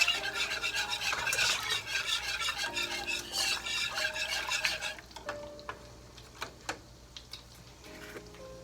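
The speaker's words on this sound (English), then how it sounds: "Stir that up again." A spoon stirs a homemade chicken alfredo sauce in a pot, first a dense rapid scraping swirl for about five seconds, then slower isolated clinks and taps against the pan, close and fairly quiet.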